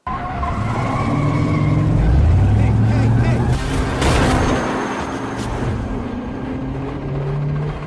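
A car's engine roars and its tires squeal and skid as it rams a man on a road in a film scene, loud and close, followed by a crash-like burst, with voices underneath.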